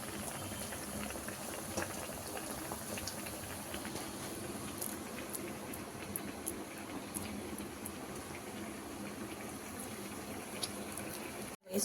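Moong dal fritters deep-fry in hot oil, a steady close crackle and bubbling sizzle that continues unbroken and fairly quietly throughout, with no talk.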